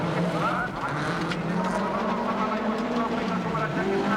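A rally car at the 1990 Race of Champions drives hard through a water splash, its engine roaring loud and steady with a churning rush of spray and road noise while a commentator talks over it.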